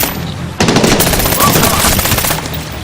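Rapid automatic gunfire in the video game Medal of Honor Warfighter bursts in after a short pause and keeps rattling loudly and fast until it tapers off.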